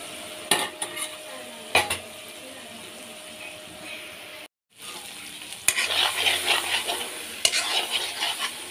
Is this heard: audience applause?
no